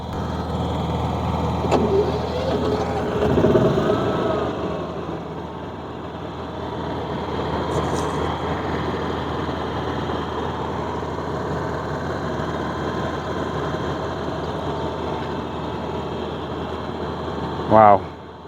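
A Powerhorse 7500i inverter generator and a Honda inverter generator run together outdoors as a steady broadband engine hum, with a short click, a rattle near the start and a brief louder burst near the end, and some speech is also heard.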